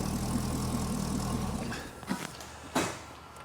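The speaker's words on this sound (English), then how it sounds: "Let me turn off the engine." A Chevrolet Corvette engine idles with a steady low hum and then cuts off abruptly, leaving near-silence broken by a couple of faint clicks and a short rustle afterward.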